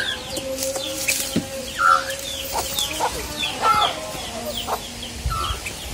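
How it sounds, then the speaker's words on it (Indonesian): Outdoors, a chicken clucks in short bursts among other bird calls and background noise. "Nah, ini ayamnya."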